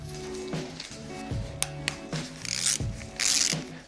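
Metal tools scrape and click on the distributor support of a Peugeot 205 GTI engine as screws are worked loose, a series of short rasping turns and taps, close and fairly quiet.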